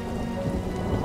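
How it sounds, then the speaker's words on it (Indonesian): Heavy rain pours in a continuous, dense roar with a low rumbling undertone, steady and close throughout, with no one talking. "ini kok hujan deras ya?"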